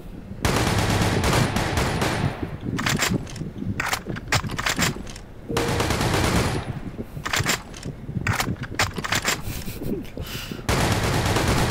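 Rapid submachine gun fire in the shooter game Blackshot, loud, dense bursts separated by brief pauses across the stretch, with game effects in the background.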